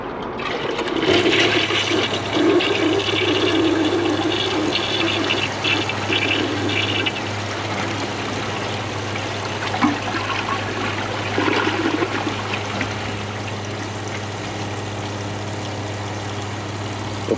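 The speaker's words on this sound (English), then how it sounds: "let's see if it can flush 8 paper towels" A Kohler Wellworth WaterGuard toilet flushes a load of eight paper towels, a loud rushing swirl of water that gradually settles into a steady trickling refill with a low hum beneath it.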